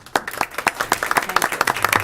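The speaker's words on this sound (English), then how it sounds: "so we can give them an applause" Audience applause for teachers standing up at a school district board meeting: scattered, uneven hand claps from a modest crowd in a meeting room, building over two seconds.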